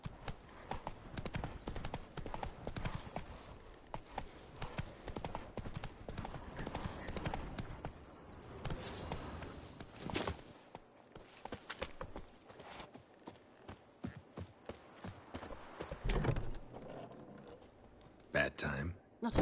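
Hooves of Roach, Geralt's horse in The Witcher, clip-clop steadily along in a game, with irregular clattering thuds and mechanical rattles, occasional louder impacts, and a voice speaking over parts of it.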